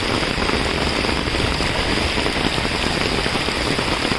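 Heavy rain pouring on flooded Mumbai streets, a dense, steady hiss of water striking surfaces with no breaks, loud and close, with faint low rumbling underneath.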